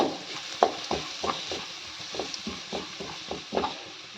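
Chicken frying in a pan, with a steady sizzle under repeated scraping strokes of a spatula stirring the pieces in an uneven rhythm, close and fairly quiet.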